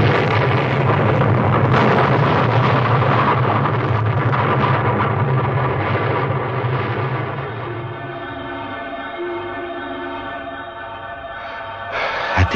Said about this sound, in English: At the explosion, I was lifted off my feet and driven forcibly backwards.